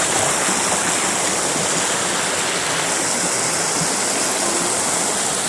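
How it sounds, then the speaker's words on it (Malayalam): A rocky village stream flows with a steady, close, full rushing gurgle, continuous and even, with no voices over it. "ഇതാണ് നമ്മുടെ തോട്. ഞാൻ തോട്ടിലേക്ക് ഇറങ്ങാണ്."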